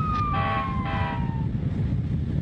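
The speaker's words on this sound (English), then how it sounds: "what should I do when I hear an emergency vehicle approaching?" An emergency vehicle siren wails in a steady, falling tone that rises above a constant low rumble of traffic noise. It plays alone, with no talk.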